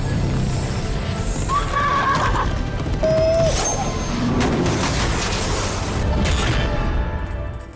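A horse neighs and whinnies several times in a Fate/strange Fake anime battle scene, over a dense roar of crashing action effects and hoofbeats, with no talk.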